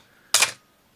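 A Canon AE-1 Program 35mm film SLR fires once at 1/1000th of a second, a single sharp, close mechanical shutter clack in an otherwise quiet room.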